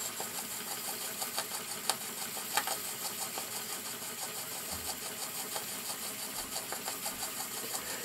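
A small live steam model beam engine with a spool valve and a little burner under its firebox runs steadily, giving a soft, even mechanical chuffing and ticking with faint periodic clicks, close by and moderately quiet, with no talk.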